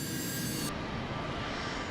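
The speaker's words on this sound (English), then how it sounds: "Captain Morwood performs a brief engine run-up, heating the engines to rid them of any accumulated snow and ice." An F-28 airliner runs up its engines before takeoff in snow, producing a loud, steady jet roar that holds evenly throughout with no voices.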